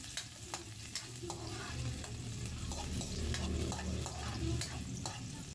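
Garlic, onion and chicken sautéing in a pan, a steady dense sizzle with repeated light spatula taps and stirs throughout, close up, with no talk.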